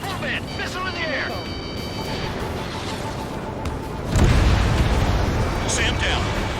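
Missiles detonate in the air combat game Ace Combat 7, a loud deep boom surging in at about four seconds over a dense rumbling battle bed, with radio voices and alert tones earlier.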